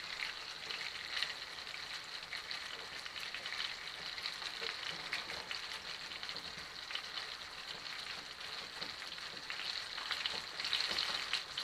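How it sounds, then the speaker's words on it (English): Eggs scrambling in butter in a cast iron pan give a steady, close frying sizzle, with faint stirring scrapes running through it and no talking. "We're scrambling eggs today."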